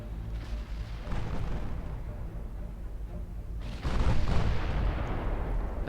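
15-inch naval guns fire in the warship game Ultimate Admiral Dreadnoughts: two deep, heavy booms a few seconds apart over a continuous low rumble of battle, the second salvo louder and closer.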